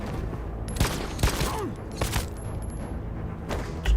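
Gunfire rings out in the video game Detroit: Become Human, with several sharp shots cracking through a dense, noisy game soundtrack of rumble and mechanical ambience.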